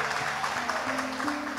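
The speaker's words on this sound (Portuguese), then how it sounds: "então aplauda para valer." An audience at a Catholic gathering claps together in a short, steady burst of applause, with a faint musical tone rising underneath the hands.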